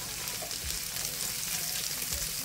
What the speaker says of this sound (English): go ahead and let the onion saute